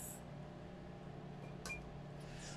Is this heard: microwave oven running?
yes